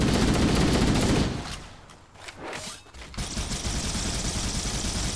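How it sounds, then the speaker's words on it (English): Dense, loud enemy gunfire in the video game Halo: Combat Evolved, a continuous barrage that dips briefly mid-clip before resuming at full intensity, with no talking. "Whoa, this thing's shooting at us."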